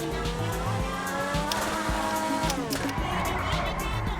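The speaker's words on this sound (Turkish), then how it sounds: "Bari şurada bir drift atmayı denedim." Car drifting in GTA 5, engine revving with rising and falling pitch as tires squeal through the slide, steady and close, while a player talks over the game sound.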